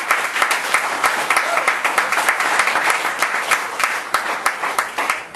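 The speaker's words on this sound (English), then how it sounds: "How about a round of applause for the veterans that are out here?" A crowd applauds veterans at a campaign event for a North Carolina House candidate, sustained clapping with a rapid, slightly pulsing rhythm, loud and close from start to finish.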